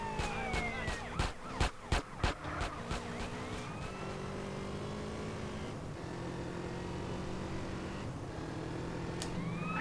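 Police sirens in GTA San Andreas, wailing and sweeping over a rapid burst of sharp gunshot-like cracks and steady traffic noise, fairly faint and continuous.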